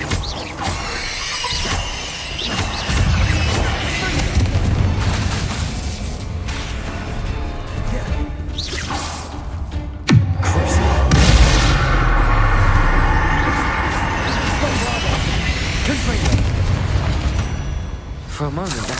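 Confringo fire spells bursting in Hogwarts Legacy, a run of booming explosions with crackling debris, one especially heavy blast midway followed by rumbling, layered over a dense game score.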